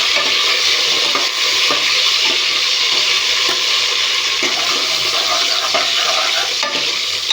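Onions frying with mint and coriander in a chicken biryani pot, a loud steady sizzle with repeated stirring scrapes and soft knocks against the pot.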